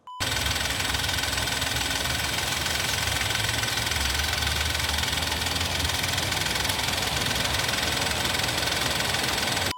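A Hyundai i20 hatchback engine idles steadily up close, a continuous rough, knocking rumble that holds level throughout without revving.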